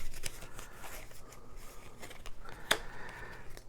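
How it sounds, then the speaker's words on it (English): Someone shuffles a deck of Camel Up card game cards, making faint, quick papery riffles and flicks at close range. A single sharper snap cuts through near the end, and nobody talks. "Then we will shuffle the crazy camels and start the deck of racing"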